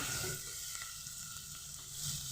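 Chopped onions fry gently in oil, a low steady sizzle with a few faint stirring taps, the hiss rising slightly toward the end, no talking.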